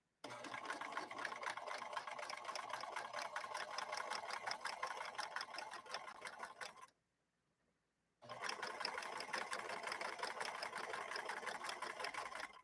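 Rapid, even mechanical stitching of a vintage 1964 Montgomery Ward sewing machine running on fabric, close and steady, stopping for about a second before resuming at the same pace.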